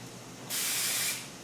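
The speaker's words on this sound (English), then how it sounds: "And I'm just going to spray that in the front," A single hiss of Windblown 05, a light airy hairspray, sprays onto the front of the hair, close and steady for about half a second before fading.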